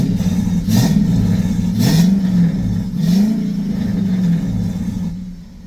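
A car engine with insulated turbo manifolds idles with a low rumble, rising in three or four short rev swells before settling back, loud and close throughout.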